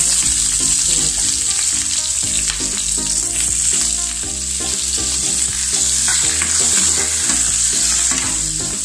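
Onion frying in coconut oil with fennel seeds, cinnamon and cardamom gives a loud, constant, close sizzle, broken by repeated scraping knocks of a spoon stirring the pan.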